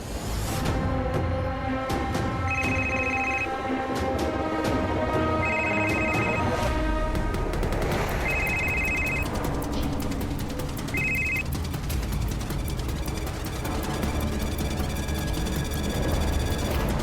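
A phone rings after a call is placed in a Crime Patrol crime drama. Repeated ringtone bursts come through at a steady rhythm over a dense, loud background of music and noise.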